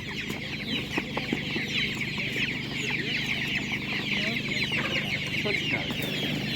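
Laying hens at a Ukrainian livestock market cluck continuously in a dense, close chorus of overlapping calls, with steady crowd and background noise underneath.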